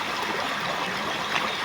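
River stream flowing over rocks, a steady broadband rush of water burbling and trickling, close and continuous with no voices.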